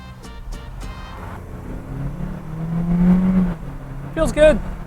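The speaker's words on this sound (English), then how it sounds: "Okay, 0 to 60 in the 2014 Malibu." A 2014 Chevy Malibu with a six-speed automatic and front-wheel drive accelerating from 0 to 60, engine note climbing steadily in pitch and loudness from inside the cabin, with a person talking at the start and end.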